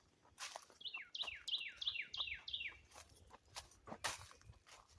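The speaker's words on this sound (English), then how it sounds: "You hear the birds chirping." Birds chirp in a quick repeated run of bright, descending notes on a wooded trail in Holt, Florida, with scattered rustling and footstep-like crunches nearby.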